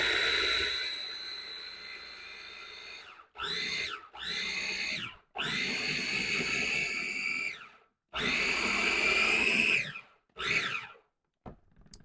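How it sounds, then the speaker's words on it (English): A food processor on its chop setting grinds cauliflower into rice, its loud motor whirring in repeated bursts that start and stop, some long and some short pulses. "start the food processor. I personally like the chop function"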